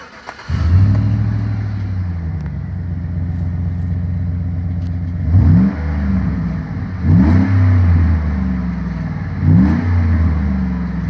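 Chevy Silverado V8 with a Borla Touring cat-back exhaust starts and idles with a deep, steady rumble, then three sharp revs swell and fall back in turn, loud and close, with no talking.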